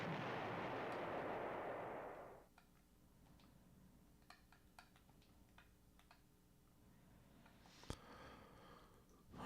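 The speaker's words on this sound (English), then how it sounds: "Alright, so our self-propelled artillery" Self-propelled artillery in the retro strategy game Panzer General, with a loud burst of noise at the start that fades after about two seconds, faint ticking, then a sharp crack near the end.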